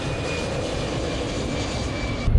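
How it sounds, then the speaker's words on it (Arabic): An airplane passes overhead, a steady broad engine roar with a faint thin whine, continuous and fairly loud throughout, no voices. "في طيارة."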